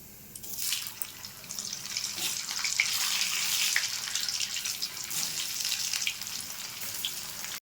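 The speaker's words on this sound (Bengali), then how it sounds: "আলুটা ভেজে নেব" Potato pieces frying in hot oil for a cabbage kalia, a steady loud sizzle and crackle with scattered popping throughout, close up and without any talking.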